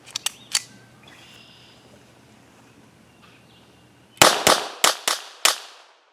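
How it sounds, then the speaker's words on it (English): A Walther PPK pistol fires a few scattered shots, then after a quiet stretch cracks off five sharp, loud rounds in rapid succession, each followed by a short echoing decay. "just make sure this gun has no issues pulling the trigger fast"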